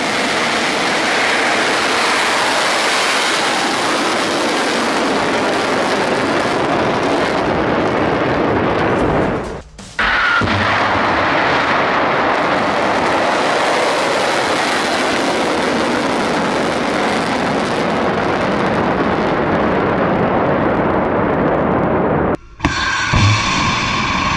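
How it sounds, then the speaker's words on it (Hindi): Missile launching and climbing during an Iranian attack on Israel, a loud, continuous rumbling roar with two brief dropouts. "देखिए किस तरह से मिसाइल जो है वो परवान चढ़ रहा है"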